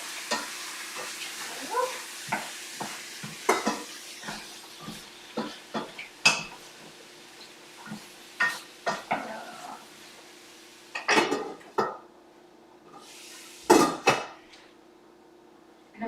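A spoon or spatula stirs vegetables in a pan for veggie-loaded ramen, a series of close, separate scraping and knocking strokes with pauses between them over a quiet, steady background hum.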